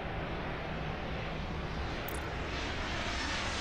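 Jet aircraft engines in the airport management game Airport Madness World Edition, a steady broadband roar that holds at an even level throughout, with no talk over it.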